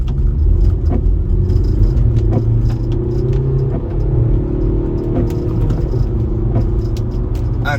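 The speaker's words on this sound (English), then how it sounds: "if I go to second gear from 20 and I'm just going to accelerate up to 60 just so you can see." A 2001-era Audi A6 C5 1.9 TDI diesel accelerates hard in second gear from about 20 to 60, heard from inside as a loud, steady engine drone and road rumble with faint rattles, and no talking.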